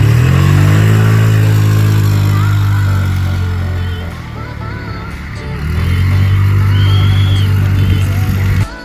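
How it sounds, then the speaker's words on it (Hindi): A motorbike ridden near the beach, its engine droning loud and close with steady revs, easing off briefly midway before pulling again. "I went for a bike ride"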